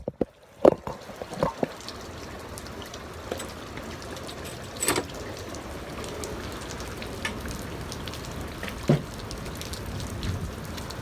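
Rain falls steadily outdoors in a dense, even hiss of drops, with a few louder close taps and knocks scattered throughout.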